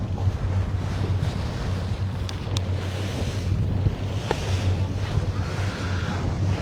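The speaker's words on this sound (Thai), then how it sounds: "ลมดีเลยแหละนี่คือลมดีเลยแหละลมกำลังเล่นเลย" Wind gusts continuously over the open sea during sailboat sailing, a loud steady rush and buffeting against the microphone with the wash of waves underneath.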